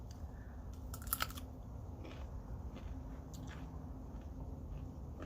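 Fresh homegrown garden vegetables are chewed close to the ear, with a few crisp crunches early on and softer chewing afterward under a steady low background hum.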